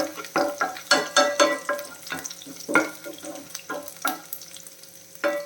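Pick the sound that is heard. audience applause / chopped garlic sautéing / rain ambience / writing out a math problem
chopped garlic sautéing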